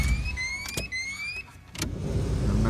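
Idling car engine running rough, a loud low rumble with rising whining tones and brief clicks, steady throughout with no talking.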